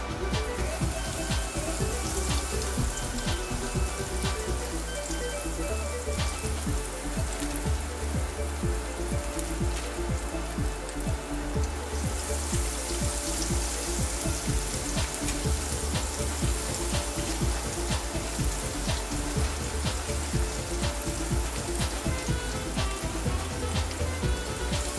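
Battered catfish fries in hot oil with a dense, steady crackling sizzle close up, continuous for the full stretch, resembling heavy rain, with faint background noise beneath.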